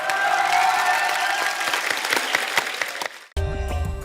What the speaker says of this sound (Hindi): जोरदार तालियां होनी चाहिए पूरी टीम के लिए।